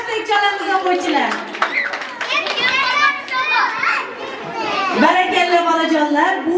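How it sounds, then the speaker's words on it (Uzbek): First-grade schoolchildren at a class alphabet celebration clap close by, the handclaps mixed into a lively wash of excited children's voices and chatter throughout. "Qarsak chalamiz o'quvchilar."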